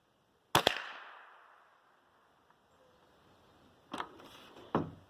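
Rifle shots fired while sighting in a scope outdoors: a loud sharp report with a long decaying echo, then after a pause two more close shots in quick succession.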